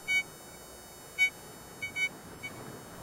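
Garrett Sea Hunter Mark II metal detector giving audio signals while being swept: several short, faint electronic beeps of varying strength are spaced irregularly over a quiet background hiss.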